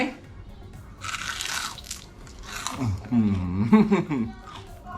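Crispy fried pork belly crackling being bitten, with a few loud crunchy bites close up and a person talking around them.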